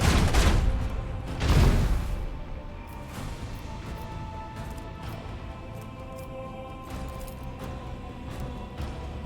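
Macro cannons fire a volley in the Warhammer 40K Rogue Trader video game: two heavy booming blasts up front, then a rumbling, crackling tail of fire that fades to a steady roar.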